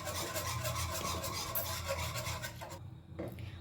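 Powdered milk is stirred into milk for dudh pithe, giving a continuous close rasping, scraping rhythm that drops away near the end.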